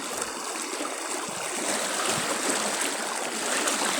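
Strong floodwater current rushing steadily on the way to a school, a continuous broadband wash of flowing water with no pauses, fairly close and alone.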